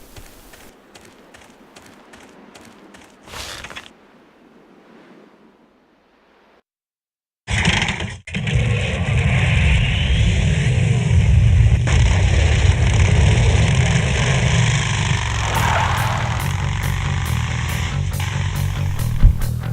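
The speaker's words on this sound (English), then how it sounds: "let's try use the bike this time" A motorcycle starts up and roars in Full Throttle Remastered, a thick, loud engine drone that bursts in after a stretch of quiet and sustains, revving and rumbling steadily to the end.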